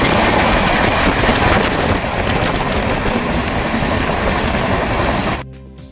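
A train pulls into Ghatshila station, its loud rumbling rolling noise and clatter of carriages running steadily close by before dropping off sharply near the end.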